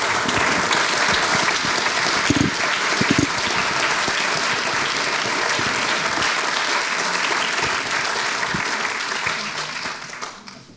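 Sustained applause from a large audience at a hall event as speakers are welcomed onto the stage, a dense, even roar of clapping that fades out at the end.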